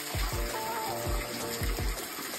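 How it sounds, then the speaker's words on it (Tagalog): Cold mountain stream on Mt. Manabu in Santo Tomas, Batangas, rushing steadily and close by, with soft low thumps of water surging through it and no talking. "Tingnan mo nga yung tubig."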